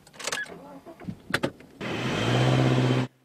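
A Subaru car with EyeSight cameras at a plant test track accelerates, a steady broadband engine and road rumble rising and holding for about a second after brief talk.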